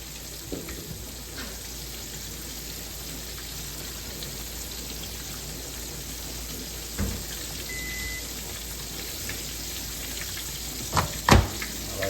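Flour-dusted whole sea bass, laid skin down, deep frying in a pan of hot oil with a steady dense crackling sizzle throughout, broken by a few sharp clatters near the end.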